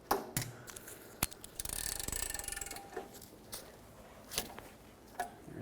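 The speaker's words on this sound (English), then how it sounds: "And now with an 18mm, let's remove these 2 bolts." Wrench loosening the two 18mm rear brake caliper bolts on a 2003-2021 Chevy Express 3500 van: scattered close metallic clicks and ratcheting taps, with a denser burst of grinding mechanical rattle midway, no talking.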